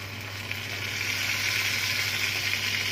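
Tomatoes dropped into a pan with garlic set off a steady, close sizzle with a bright hiss. It swells slightly after the first moment and then holds level under a low background hum, with no talk.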